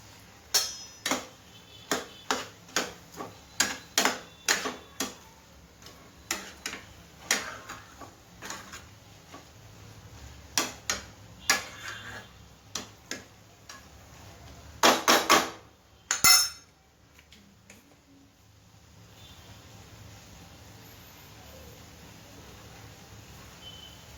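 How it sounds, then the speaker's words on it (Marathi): A spatula stirs washed mixed vegetables in a pan for Marathi bhogichi bhaji, making a string of sharp metallic clinks in an uneven rhythm. A louder cluster comes near the end before things go quiet. "तर या सर्व भाज्या आपल्याला व्यवस्थितपणे हलवून घ्यायच्या आहेत।"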